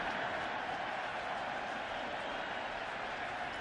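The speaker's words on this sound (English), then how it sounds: "Crowd applauds that." A football stadium crowd at an NFL game applauds in a dense, steady wash of clapping and murmur that holds evenly throughout, heard at a distance.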